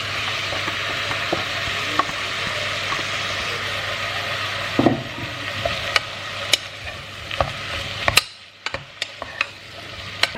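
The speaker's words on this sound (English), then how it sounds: "I'm gonna add the onions and peppers in there and let it saute and sweat down" Ground meat with onions and peppers sautés in a home kitchen pan, giving a steady close sizzle throughout with occasional clicks and scrapes of stirring.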